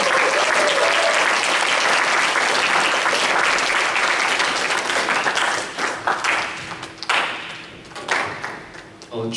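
Sustained applause from a church congregation at a Sunday young-adult worship service, loud and dense for most of the stretch, then thinning into scattered claps near the end.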